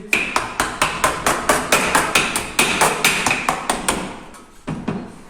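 A hammer strikes thin sheet metal clamped in a vise to bend it around a round rod, giving a rapid, regular series of about twenty sharp metallic blows, close and loud, with a brief pause before a few final hits.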